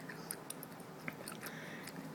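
Faint wet chewing and biting of a sour food, with soft irregular crunchy clicks repeating close to the mouth over a quiet background.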